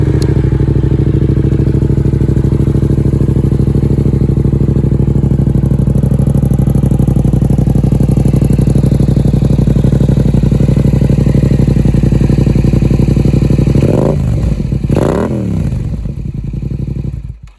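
A 2020 Yamaha MT-07 motorcycle engine running loud and close with a steady, throbbing idle, then two sharp revs near the end before it settles and cuts out.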